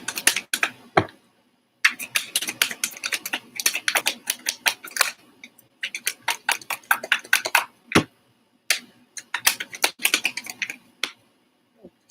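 Rapid typing on a computer keyboard, dense bursts of sharp clicking keystrokes broken by short pauses and occasional heavier key thumps, close and with no speech.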